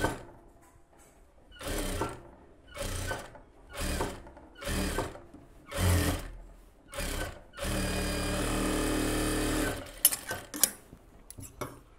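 A sewing machine runs in short stop-start bursts while stitching a puff sleeve, roughly seven quick stitching runs, then one longer continuous run, and a few clicks and handling knocks at the end.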